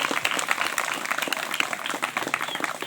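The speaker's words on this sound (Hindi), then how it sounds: "प्रभु को महिमा देंगे तालियों के साथ में।" A church congregation claps together to glorify the Lord, a quick dense patter of many hands that runs steadily for a few seconds at moderate distance.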